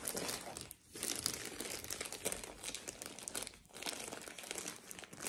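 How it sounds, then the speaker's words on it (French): Paper crinkling and crumpling as a gift from an advent calendar is unwrapped, close and continuous with brief pauses, no voices. "Je vais ouvrir le cadeau."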